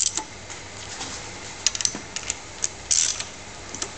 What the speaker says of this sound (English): he's using at the moment is just a straight half inch ratchet and a socket and he's winding those studs down straight onto the head bolt